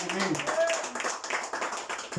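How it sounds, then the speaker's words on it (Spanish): A church congregation claps for the Lord during a service, a dense spatter of hand claps running steadily throughout with voices mixed in. "Denle fuerte el aplauso al Señor, hermano."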